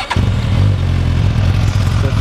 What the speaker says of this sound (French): On va la démarrer.